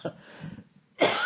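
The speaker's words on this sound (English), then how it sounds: "as bad as my cough sounds, it's way better than it was fucking yesterday" A rough, phlegmy human cough: a short harsh burst at the start and another loud hacking cough near the end, with some breathy throat noise between and no speech.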